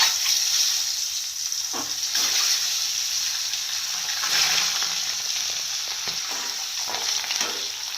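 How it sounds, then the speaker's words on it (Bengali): Duck eggs fry in hot oil, a loud continuous sizzle and crackle close up, with occasional stirring knocks and spatters scattered through the steady hiss. "তেল গরম হয়ে গেছে, এবার ডিমগুলোকে ছেড়ে দেব"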